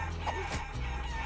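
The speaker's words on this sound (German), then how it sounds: "noch mehr Hühner, die ich verkloppen kann" Chickens in the video game Guacamelee cluck and crow, short fowl calls layered over steady game background sound, moderately quiet and without talk.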